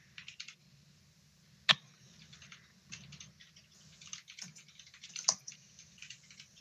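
Computer keyboard typing while writing C# code, a quick irregular patter of key clicks with a couple of sharper louder taps, close and fairly quiet, with no talking.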